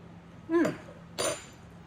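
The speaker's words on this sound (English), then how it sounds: "So let me get out a spoon here, give it a taste" A metal spoon clinks twice against a bowl holding taco filling, one short ringing tap followed by a second, softer scrape-and-tap, close by with no talking.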